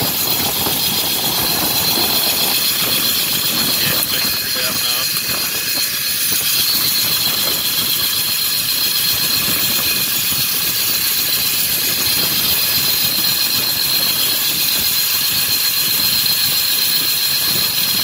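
A walk-in cooler's refrigeration unit runs steadily, giving a loud, constant mechanical roar with high whining tones throughout and no voices.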